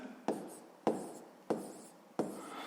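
Numbers written by hand with a pen on paper during a sixth-grade math exercise, four quick separate scratching strokes at an even pace, close and quiet, no talking.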